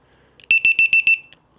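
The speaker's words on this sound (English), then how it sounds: "It's gonna make a beep, loud beep noise." A LiPo battery charger sounds a loud series of six short, high electronic beeps in quick, even succession, followed by a fainter single chirp, close and clear in an otherwise quiet room.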